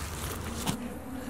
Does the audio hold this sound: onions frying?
no